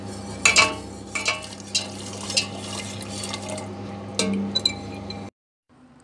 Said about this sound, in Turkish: Yine karıştırarak yavaş yavaş sosunu ilave ediyorum.